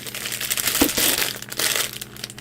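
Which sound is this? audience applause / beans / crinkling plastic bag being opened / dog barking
crinkling plastic bag being opened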